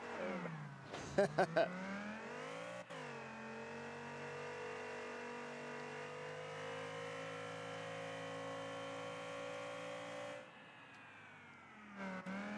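Race car lapping at a racing academy, its engine droning steadily from inside the cockpit, with a brief rev flurry and gear shifts near the start, then a long sustained pull that drops away before rising again.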